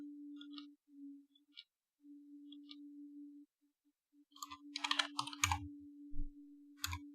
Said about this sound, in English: My keyboard sometimes switches to the English settings, so I have to click a different button to do a question mark.